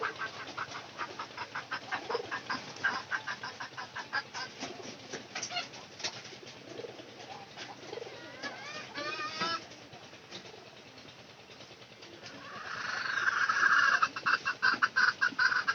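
Pigeons kept at home give a steady stream of close, overlapping coos and throaty calls, with a louder burst of fluttering and calling near the end.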